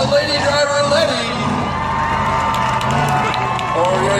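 A crowd of spectators cheers and whoops in the stands at an outdoor agricultural fair truck derby, a steady roar of voices under an announcer talking over the loudspeaker.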